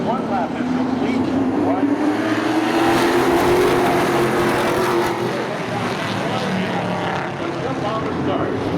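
Pro stock race cars circle Seekonk Speedway in a steady, loud engine drone that swells and rises in pitch as the field passes, with an announcer talking over the continuous roar.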